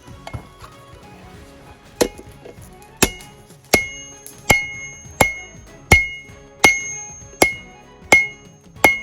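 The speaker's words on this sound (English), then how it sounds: "you say don't hit your anvil like I just did on accident there" A hammer rings out on a steel anvil during the forging of a Viking axe, a series of about ten sharp metallic strikes at a steady, slightly quickening rhythm, loud and close, each with a bright ringing decay.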